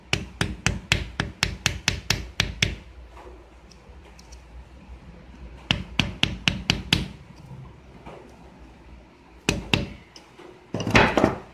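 The center of a bulb-type lock cylinder is tapped to compact it: quick runs of sharp, close hammer knocks come in bursts, separated by pauses with faint scraping and handling.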